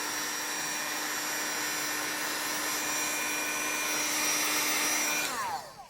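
A heat tool blows hot air over shrink plastic being shrunk for a penguin bottle stopper, a steady loud whirring fan drone with a high whine that holds constant, then cuts off and winds down at the end.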